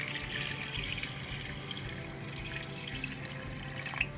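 About a glass of water pours into a pressure cooker holding mutton, a steady close splashing rush that runs for several seconds with no talk.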